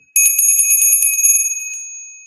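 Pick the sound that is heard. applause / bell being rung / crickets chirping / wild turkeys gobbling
bell being rung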